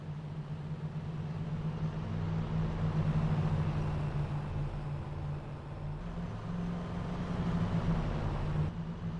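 Supermodified race cars roll in formation behind the pace car at Delaware Speedway in a sim racing game. Their engines give a continuous low, buzzing drone at moderate volume that swells slightly and then holds steady.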